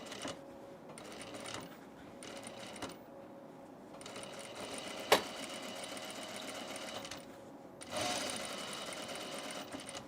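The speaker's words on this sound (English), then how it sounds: "We're going to sew this 1/4 inch seam" A home sewing machine stitches a 1/4 inch seam on a tunic without pins, running in steady whirring bursts broken by short pauses, close and clear.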